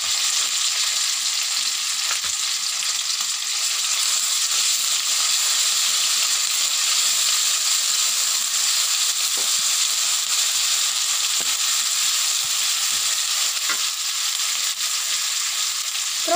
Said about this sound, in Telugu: మళ్ళీ అయితే దీన్ని అయితే ఫ్రై చేసుకోవాలి ఫ్రెండ్స్.